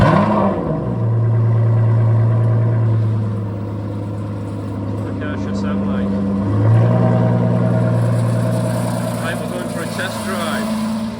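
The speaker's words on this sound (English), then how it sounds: "I'm going out in the Aston Martin for a test drive" An Aston Martin engine drones steadily on a test drive, easing off around the middle and then swelling again as it revs, while a voice talks over the engine throughout.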